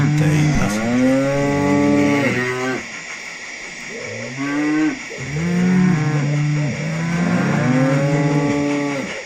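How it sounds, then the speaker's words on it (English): Cattle restless in cattle vans at a model railway station, with several loud, drawn-out moos from more than one animal overlapping close by and only brief pauses between calls. "some of the cattle are getting a bit restless in the cattle vans"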